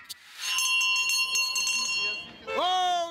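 Bells ring out over a crowd gathered for a royal wedding, bright sustained tones with several strikes, under excited talking and a cheer near the end.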